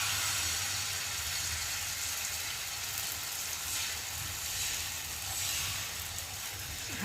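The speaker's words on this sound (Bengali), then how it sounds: "আর এখন আমি গোলা রুটিটা দিয়ে ভালো করে ভেজে নেব" Egg batter flatbread (gola ruti) frying in a pan makes a steady, broad hiss and sizzle throughout, moderately loud and close, with no clear pauses.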